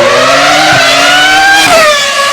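A V10 engine in a Porsche Carrera GT or Lexus LFA revs with a high-pitched, loud scream that climbs, shifts and climbs again in quick bursts.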